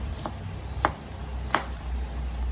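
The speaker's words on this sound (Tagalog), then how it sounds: "Hiwain lang natin itong garlic." A knife slicing garlic thinly on a board, with a few sharp, separate chops spaced apart over a steady low background hum.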